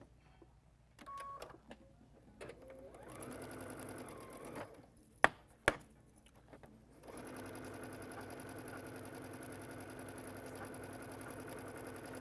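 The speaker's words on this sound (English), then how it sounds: "you're just sewing and sewing and sewing" A sewing machine stitches quilt blocks in an assembly-line run. Quiet stop-start bursts of whirring with a few sharp clicks lead into a steady, continuous mechanical hum of sewing that lasts the rest of the way.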